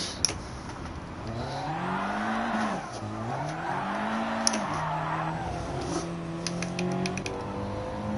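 Car in the video game GT Sport sliding with the handbrake held, engine note rising and falling through gear changes under a long tire squeal, with clicking keyboard taps scattered throughout.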